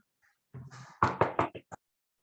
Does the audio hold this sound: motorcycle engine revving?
no